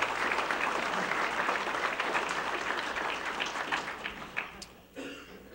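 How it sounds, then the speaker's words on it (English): An audience claps at a police department awards ceremony, sustained dense applause filling the room at full strength before tapering off near the end, with no speech over it. "You can applaud."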